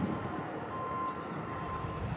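Garbage truck reversing beeps sound steadily as a single continuous tone over a constant rumbling engine and street noise, moderately distant.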